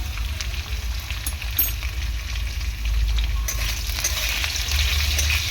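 Potatoes frying in a pan, a loud continuous close-up sizzle with occasional stirring scrapes, growing slightly fuller midway, with no one talking.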